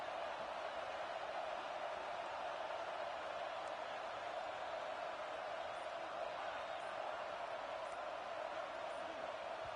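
A stadium crowd at a college football game roars during a third-down red-zone play, a steady loud wash of cheering and noise that holds unbroken throughout.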